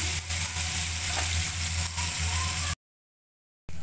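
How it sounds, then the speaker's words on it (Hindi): Chicken sizzling steadily on a tawa over low heat, a dense continuous frying hiss with faint stirring, close and fairly loud, cutting to silence near the end before resuming briefly. "इसको मैं हल्की हल्की आँच पे इसी तरह भूनती रहूँगी।"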